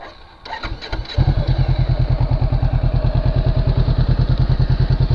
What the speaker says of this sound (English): Let's start it up so you can hear the engine.